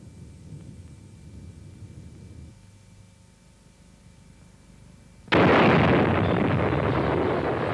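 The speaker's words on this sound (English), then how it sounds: "The explosion was the equivalent of more than 50 million tons of TNT" A Cold War nuclear bomb test blast equal to more than 50 million tons of TNT arrives as a sudden loud broadband roar after a quiet low rumble, sustaining a heavy thunderous wash.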